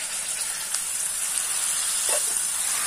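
Chili paste sizzling in hot oil while frying for a bitter gourd pickle, a steady, fairly quiet hiss with faint crackles, no talking.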